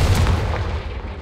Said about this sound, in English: I do love me some fire spell